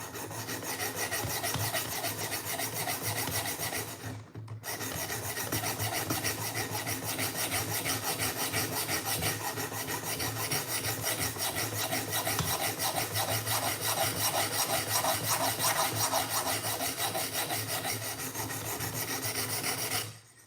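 A Benchmade knife blade is drawn across a sharpening stone in a steady, continuous rasping rhythm, close and fairly loud, pausing once briefly before resuming for the rest of the stretch.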